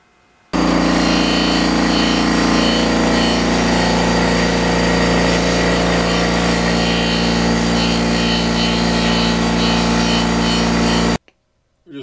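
A buffing wheel polishes a car headlight, making a loud steady motor whine with a harsh grinding hum that runs unbroken for about ten seconds and then cuts off abruptly.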